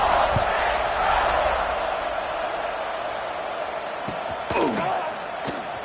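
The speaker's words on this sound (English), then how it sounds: "this crowd is buzzing after that last score" A packed stadium crowd at an American football game after a score, filling the air with a dense, steady roar and murmur that swells briefly louder near the end.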